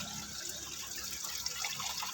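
Fresh water pours steadily into a village animals' water trough, a continuous faint rushing and splashing with no breaks, heard without talk.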